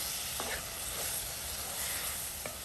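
Chicken liver cooked with pepper fries in a pan, making a steady, fairly quiet sizzling hiss with a few faint utensil taps.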